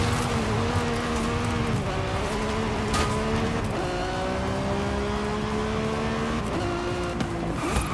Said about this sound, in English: Of course, the Lamborghini V12,